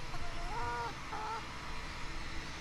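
A chicken near a fishing tackle bag outdoors gives two short, faint clucking calls over steady background noise, with no talk.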